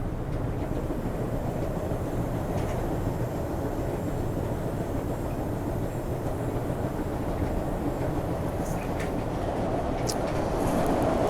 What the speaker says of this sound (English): It's odd to see a subway train going the other way